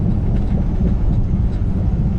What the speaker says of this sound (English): Everything in the truck is rattling.